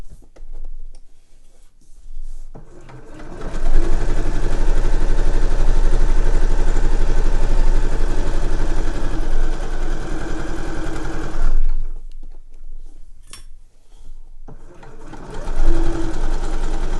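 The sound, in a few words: sewing machine stitching a cushion cover seam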